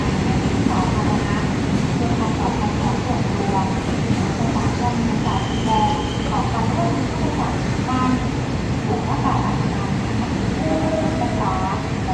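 A train rumbles along steadily past overhead electrical power structures near km 11 of the Pa Sak Dam line in Thailand, with loud, continuous rolling noise and faint murmuring voices mixed in throughout.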